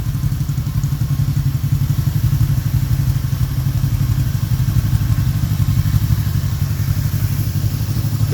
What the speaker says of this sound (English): The engine sounds really good.